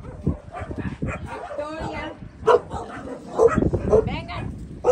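Several dogs bark, yip and whimper close by in short bursts, mixed with people talking over them.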